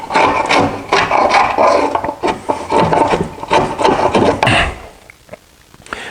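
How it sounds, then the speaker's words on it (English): Dried glue scraped off wooden cutting-board stock with a hand glue scraper: a run of close, rasping strokes in quick succession that thin out into a few faint scrapes near the end. "have a real good glue scraper"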